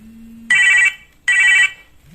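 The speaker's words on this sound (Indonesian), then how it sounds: "Bentar, telepon." A telephone rings twice in bright electronic bursts, each about half a second, with a short gap between, loud and close, with no talk over the rings.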